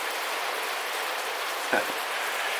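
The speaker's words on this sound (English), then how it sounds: "here comes the rain" Rain beginning to fall outdoors, an even loud hiss of drops on surfaces with one brief thump partway through and no voices.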